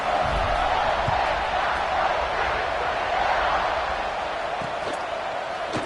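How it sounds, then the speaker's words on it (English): A large college football stadium crowd buzzing after a score, a dense, steady roar of distant voices, loud and unbroken throughout with no single voice standing out. "this crowd is buzzing after that last score"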